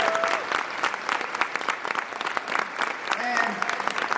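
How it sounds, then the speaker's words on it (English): An audience at a plenary session applauds the panelists with sustained, dense clapping from many hands at moderate volume, a faint voice or tone briefly rising above it. "please give them all a big round of applause for the work that they do"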